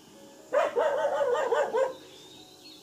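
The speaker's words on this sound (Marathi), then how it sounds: "कधीपासून दोघं जण भुंकतायत" Two village dogs bark together in a loud, close run of overlapping barks lasting over a second, then it falls quiet.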